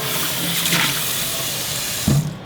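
Tap water runs steadily into a kitchen sink while a pan is washed, a close, even splashing rush with a brief clunk of the pan near the end and no voices.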